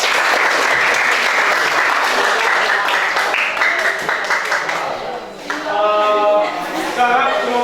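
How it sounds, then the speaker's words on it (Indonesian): Applause from a classroom audience after a group presentation in a teacher certification performance test, steady dense clapping that fills most of the stretch before thinning near the end. "demikian berikan tepuk tangan."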